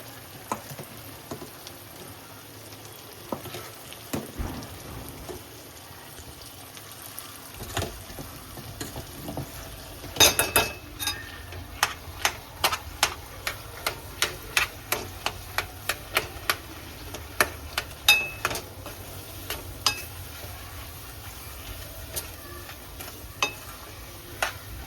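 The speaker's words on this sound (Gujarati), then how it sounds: "હવે હું આની અંદર બધા બટાકા મિક્સ કરી દઉં." Potatoes stirred into spiced oil masala in a pan for Kutchi dabeli: a steady, soft sizzle runs throughout, joined about halfway by a quick series of sharp, close spoon clicks and scrapes against the pan, with no voices.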